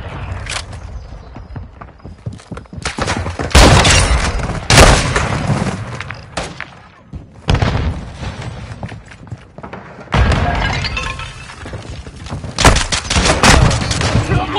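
Dense video game gunfire from a military shooter, with heavy bursts of rapid shots, booms and thuds rising and falling in waves, loud and close, with no talking.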